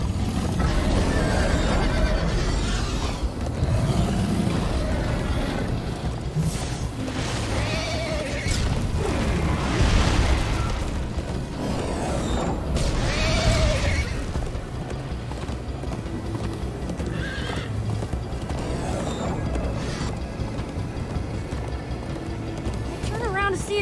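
Horse in the Minecraft Story Mode video game gallops with busy clip-clop hoofbeats and occasional whinnies, set under game music, rumbling booms and people talking throughout.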